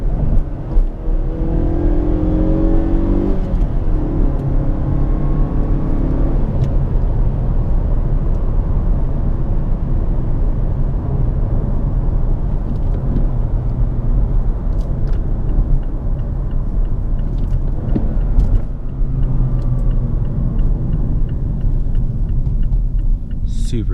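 A 2017/2018 Mazda 3 driven at night in third gear, its engine droning steadily and revving up with rising tones inside the cabin, loud and continuous throughout.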